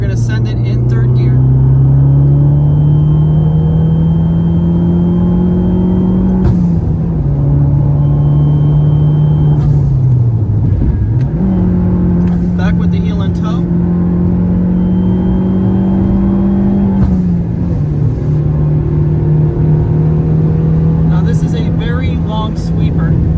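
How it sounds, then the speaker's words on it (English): A small Abarth car's engine drones steadily and loud throughout, its pitch climbing and dropping sharply as it downshifts with heel-and-toe blips before pulling hard in third gear on a sweeping curve. "we're going to downshift, and we're going to heel and toe here,"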